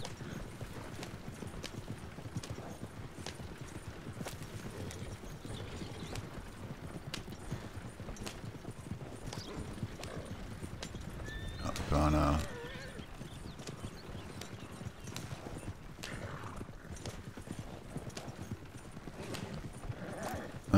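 Horses gallop in the video game Red Dead Redemption 2, a rapid, continuous clip-clop of hooves over rough ground with a brief neigh midway, steady and fairly close with background game ambience.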